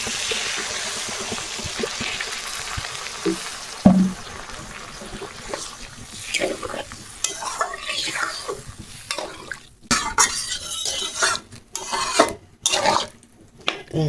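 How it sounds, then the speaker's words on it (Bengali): Water is poured into a pan of frying papaya and potato vegetables, with splashing and trickling, then uneven clatter of a spoon and pot against a fading sizzle. The sound is close and intermittent. "আর আমি জল দিব দেখি।"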